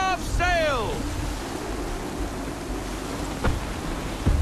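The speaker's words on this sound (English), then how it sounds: "That wind will push us hard up those rocks!" Strong wind gusts and rolling waves at sea during a storm in the Assassin's Creed III naval game, a steady broadband roar with a shouted voice at the start and a short sharp knock near the end.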